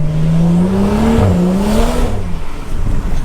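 A BMW with a BootMod3 transmission flash downshifts and pulls in third gear on a wet road, its engine drone rising steadily in pitch, close and continuous, then easing off near the end.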